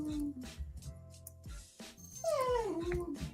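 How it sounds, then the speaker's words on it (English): A dog whines in a series of high, wavering whimpers and yips, close by and fairly quiet, some notes sliding down in pitch, with no talk over them. "Hear my dog whining."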